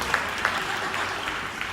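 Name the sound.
audience applause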